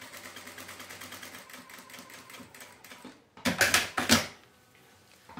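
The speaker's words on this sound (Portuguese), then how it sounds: "agora eu vou costurar até finalizar a parte aqui de baixo e" A sewing machine runs fast, steady stitches along the hem of a cotton dish towel, then stops briefly and gives a few louder, choppier bursts as it backstitches to finish.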